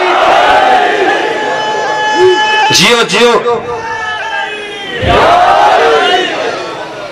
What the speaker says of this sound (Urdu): جو گیٹ پہ کھڑا اسے نعرہ معاف نہیں ہوتا، بلند کر کے حیدری